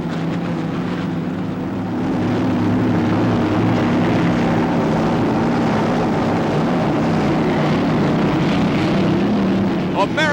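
Racing boats from the 1985 season roar loudly and continuously after the start, running down into the south turn while a commentator talks over the engines.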